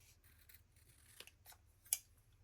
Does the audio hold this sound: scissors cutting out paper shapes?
yes